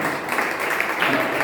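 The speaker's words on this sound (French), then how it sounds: "on peut l'applaudir." Steady applause from a crowd at an Afro-descendant cultures exhibition, a dense wash of many hands clapping that holds evenly throughout the short moment.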